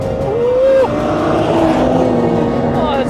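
Toyota Supra turbocharged straight-six engine revving hard while accelerating in a drag race, loud close engine tone rising and shifting pitch as it pulls through the gears, with people talking over it.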